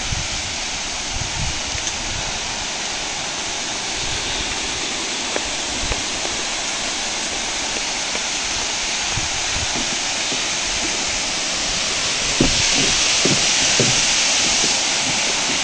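Waterfall at Bada Ghagara in Keonjhar, a broad, steady rushing roar of falling water heard close and loud, constant without breaks for the whole stretch.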